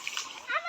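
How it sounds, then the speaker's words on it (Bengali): A child leaps into water during swimming practice at a village home, making a quick close splash with excited voices talking over it. "সাঁতারে ঝাঁপ দিবে"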